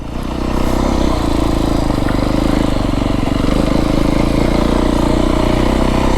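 Beta 350 X-pro dirt bike engine droning steadily while riding to a dam in the mountains of southern Arizona, loud and close with a constant mid-range buzz and no talk.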